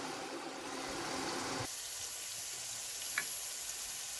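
Ground spices sizzle and fry in a hot pan for a Bengali home-cooked dish, a steady low hiss running throughout with no talk, shifting in tone partway through.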